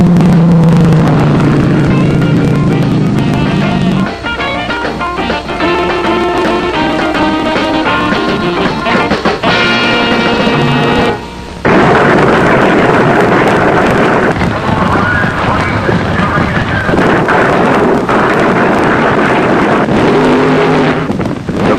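Nitro fuel dragsters roaring down a quarter-mile strip, one engine blowing partway through the run, heard as a loud, sustained, distorted engine blast with a brief dropout and a thundering, rain-like wash of noise.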